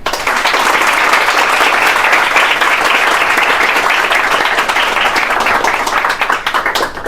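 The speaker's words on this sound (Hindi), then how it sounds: "एक और ताली बनता है।" A large audience applauds loudly and continuously, dense clapping sustained for several seconds before beginning to thin out near the end.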